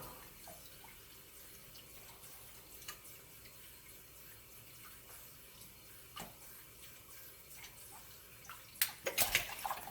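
Boiling water pours over a glass wine bottle to crack it for cutting: a faint, steady trickling stream that turns to louder splashing and clinks at the end.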